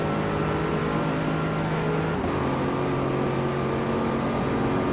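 Chevrolet Corvette ZR1 engine in the Forza racing game, droning steadily at high speed in sixth gear, with a brief pitch dip partway through and then a continued sustained drone.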